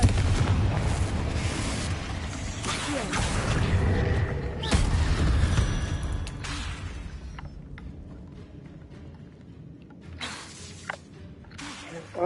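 The Confringo fire spell in Hogwarts Legacy bursts into loud, deep explosive booms with rumbling crackle, repeating over the first half before fading into scattered sharper impacts and quieter debris.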